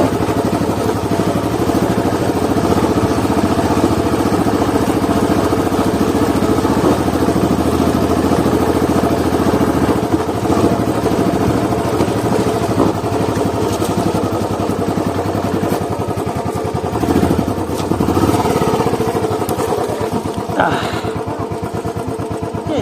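A motorcycle carrying three riders labours along a rough off-road mountain track near Kalimpong, its engine a loud, close, continuous rumble that barely lets up, with rattling and clatter underneath.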